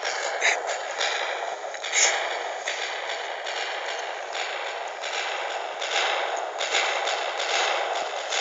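A dense, continuous barrage of loud blasts and rumbling explosions from a TNT cannon in Minecraft, overlapping with no pauses and no talking.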